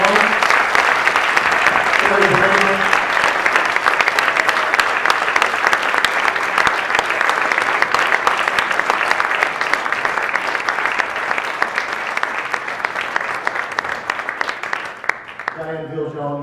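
A sustained, dense round of audience applause at a public talk on food culture fills the room for about fifteen seconds before tapering off, with a few voices emerging near the end.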